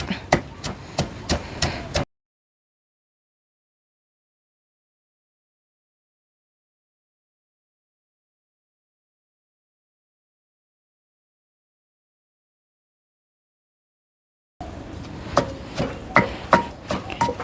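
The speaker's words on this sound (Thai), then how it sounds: "มักพริกแหลกแล้วก็สีใส่จิ้งหรีดลงไปพี่น้อง ป่นเบิดเลยแซ่บๆ" Crickets are pounded with chili in a mortar, giving steady, regular, close thuds at a quick rhythm. The pounding comes in two stretches separated by a long silent gap.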